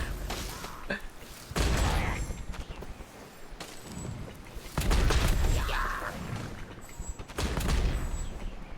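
Bombs explode in the video game Genshin Impact: three loud, crackling blasts, each with a decaying rumble, burst out at roughly even intervals over a quieter background of game effects.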